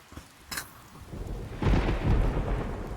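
Thunder rolls through a rainy thunderstorm in the game Persona 4 Golden: a faint hiss of rain, a brief crack, then a deep, swelling low rumble that carries on to the end.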